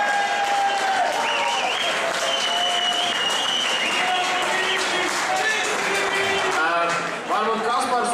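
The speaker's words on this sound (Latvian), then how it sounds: "Aplausi!" Sustained dense applause from an audience at a Durka Racing award ceremony for the Scooter 50 Stock class, loud and continuous throughout, with voices mixed into the clapping crowd.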